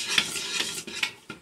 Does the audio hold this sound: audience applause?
no